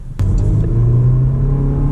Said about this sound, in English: when we accelerate in normal mode, the engine is still kind of peppy